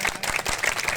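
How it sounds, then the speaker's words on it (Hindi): A short burst of clapping from an audience at a Gondwana community gathering, with uneven, distinct hand claps over a brief second, moderately loud. "विशेष इनके लिए एक बार जोरदार ताली बजाएं"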